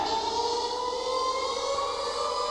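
A civil defense siren drones steadily, its loud wavering tone holding high and continuous without pause, alone and close.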